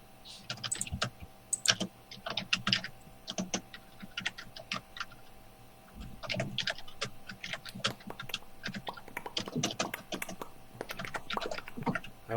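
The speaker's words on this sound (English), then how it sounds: "there's a lot of typing going on" Rapid typing on a computer keyboard, bursts of crisp close clicks with short pauses between runs, continuing steadily over a faint hum.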